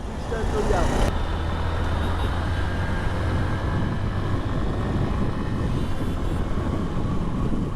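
Hero Livo motorcycle on a second-hand test ride, a steady loud engine drone with broadband road and wind rush throughout, continuous and close.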